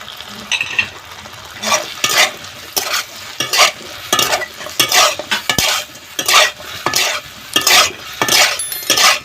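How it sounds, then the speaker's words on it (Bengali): Chicken pieces in a frying pan being stirred repeatedly, rhythmic bursts of loud sizzling and scraping from a spatula against the pan, close and busy with a few metallic clinks, no one speaking. "এবারে আমি চিকেনটা দিয়ে দিলাম।"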